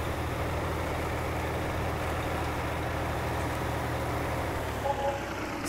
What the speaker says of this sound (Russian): По-моему, тут звук трактора будет громче и солиднее, чем сам сигнал.